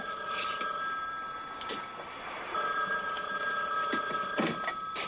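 A telephone bell rings in repeated bursts, loud and close, with a brief pause between rings.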